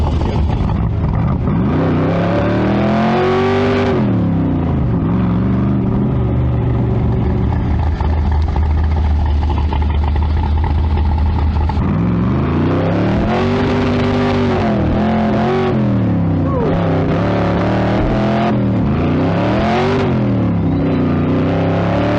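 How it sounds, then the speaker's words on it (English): A Cobra sports car engine revs and accelerates hard through repeated rising gear pulls, loud and close, with a deep throaty roar that dips between shifts. "That's pure acceleration, and with these cars you feel the engine"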